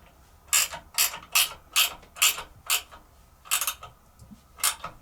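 A hand ratchet clicks in a run of about nine quick, even strokes as it tightens the flywheel on a NordicTrack elliptical, close up and crisp with short pauses between strokes.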